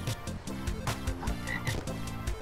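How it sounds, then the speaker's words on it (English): A frog croaks in LEGO Dimensions in the Sonic the Hedgehog adventure world: a series of clear, rhythmic croaks repeating about every half second, close and prominent, with no speech. "Frog, yeah. I can hear him. He's here somewhere."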